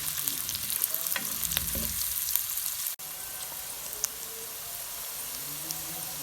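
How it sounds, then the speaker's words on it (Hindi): Steady sizzling of onions frying in a pan until light brown, with occasional stirring clatter and scraping, close and continuous. "ये देखें, प्याज को हम लाइट ब्राउन करेंगे।"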